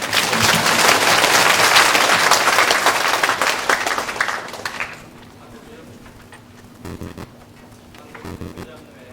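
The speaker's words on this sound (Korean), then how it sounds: "하나님께 영광의 박수 올리겠습니다" A church congregation at an evening revival meeting bursts into loud, dense applause that fades out after about five seconds, followed by a quiet room with a few scattered claps.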